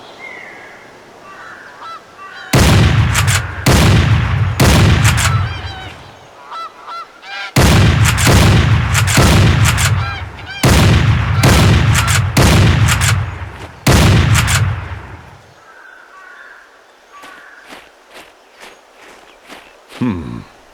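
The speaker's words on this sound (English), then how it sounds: "Here comes a flock of geese. Let's see how you handle that shotgun." Shotgun blasts boom in two rapid volleys during a goose hunt in the video game Cabela's Dangerous Hunts 2011, honking geese calling faintly between the shots and a few softer trailing pops at the end.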